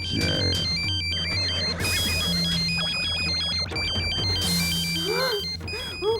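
A mobile phone rings with a bright, repeating electronic melody, its pattern cycling several times at steady volume over faint background room noise.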